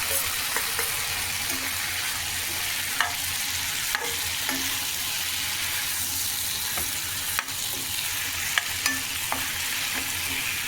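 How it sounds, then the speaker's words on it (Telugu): Cucumber pieces frying in a pan for chutney, giving a continuous, even sizzle with a few soft clicks of a spoon stirring, close and steady throughout, with no voices. "ఇప్పుడు దోసకాయ ముక్కలు వేసుకొని అవి కూడా మెత్తగా వేయించుకోవాలి."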